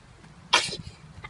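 A single short, sharp sneeze from a small child in a park, close by and fairly quiet, with faint background murmur.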